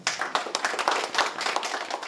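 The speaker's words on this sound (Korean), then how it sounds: "힘찬 박수로 맞아주시기 바랍니다" Audience applause at a Seoul city council forum on the Hangang Bridge centennial bridge plan, greeting the council chairman as he comes up to speak; dense, steady clapping from a crowd throughout.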